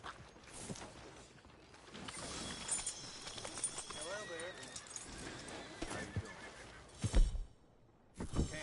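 A horse in a Western whinnies and snorts amid clip-clopping hooves and creaking tack, with people talking nearby over the movement.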